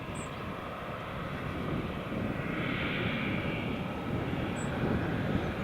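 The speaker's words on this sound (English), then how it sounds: "that's the TUI just rolling" A TUI airliner rolls along the runway at Newcastle Airport, producing a steady distant engine roar with a broad rumble that swells slightly midway over outdoor background.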